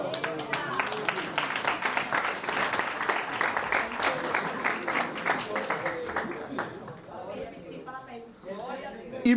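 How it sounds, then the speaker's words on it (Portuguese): A church congregation breaks into dense, sustained applause that fills most of the span, thinning and fading near the end as scattered voices come through. "vamos aplaudir, gente, de novo"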